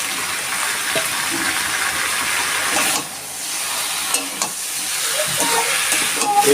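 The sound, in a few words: prawns and potato frying in a pan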